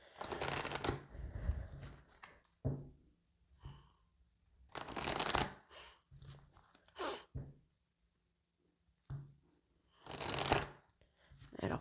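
A deck of oracle cards is shuffled in quick riffling bursts separated by pauses, close and fairly soft, with no talking.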